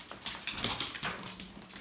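A female dog whimpering softly inside her kennel, a run of faint, short whines and snuffles close by.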